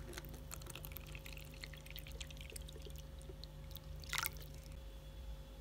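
A thin stream of water pours and splashes briefly into a tarantula's enclosure, surrounded by small drips and clicks over a steady low hum.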